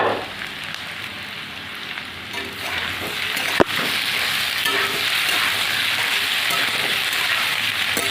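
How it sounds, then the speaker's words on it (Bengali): Chili and ground spice paste sizzles loudly in a pan over already fried squash for a vegetarian Bengali curry, a steady dense frying hiss with one sharp click midway. "এবার লঙ্কা আর মশলাটা দিয়ে দেবো।"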